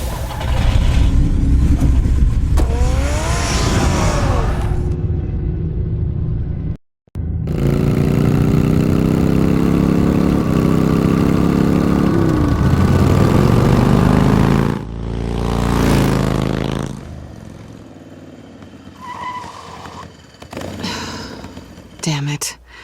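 A car engine in the Batman Telltale video game revs and idles in bursts, with rising and falling whines that come and go among other game sounds and short stretches of speech.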